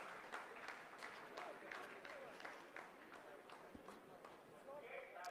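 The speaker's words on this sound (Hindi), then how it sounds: "आप इस तालियों के गड़गड़ाहट को सुन सकते हैं," Scientists in a mission control room applaud and cheer after the second braking phase of the Chandrayaan-3 Moon landing; dense, continuous clapping fills the whole stretch under steady crowd noise.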